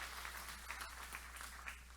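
Quiet, steady applause rises from a church congregation, many hands clapping in a soft, even patter heard from a distance, with a low hum underneath.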